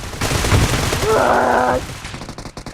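Gunfire in the PUBG Mobile battle royale game, a loud dense burst of shots under a player's excited talk, with a brief tonal game sound in the middle.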